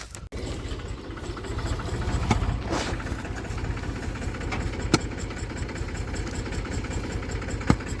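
A tractor engine runs steadily nearby at an even idle-like throb, with a faint regular knocking and a few sharp clicks and thumps scattered over it, no talk.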